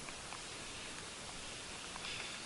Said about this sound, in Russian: Дождливая, конечно, картина.